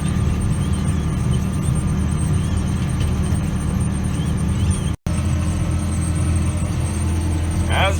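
Farm tractor running in a field during corn planting: a steady low engine drone that continues unbroken apart from a brief dropout, with someone talking over it.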